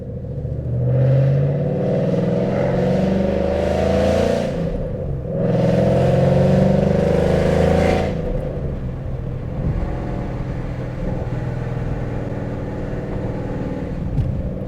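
A car engine pulls hard through two long acceleration surges while driving, each loud rise easing off before the steady cruising rumble settles in, with no talk over it.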